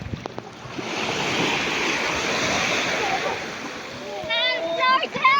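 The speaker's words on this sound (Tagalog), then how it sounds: "Grabe yung alon." Ocean waves at Lian, Batangas wash and splash in a steady roaring surge, with people's voices and shouts breaking in toward the end.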